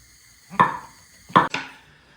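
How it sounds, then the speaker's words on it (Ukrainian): Knife cutting 350 grams of champignon mushrooms into small pieces on a board: two sharp, close chopping knocks about three-quarters of a second apart, then a third quick cut, in a quiet kitchen. "хочу порізати шампіньончики такі невеличкі"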